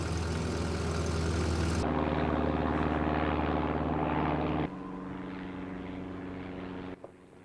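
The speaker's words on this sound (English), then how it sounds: "there's a plane" A propeller airplane flies overhead above a desert island, a loud steady droning roar that fills the whole stretch and then drops to a lower, quieter hum as it passes, with no voices.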